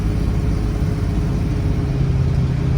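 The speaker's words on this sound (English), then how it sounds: "Accelerates just fine." The engine of a 1964 Ford Galaxie 500XL convertible pulls under acceleration, a loud, close, steady low rumble with a slight rise in pitch toward the end.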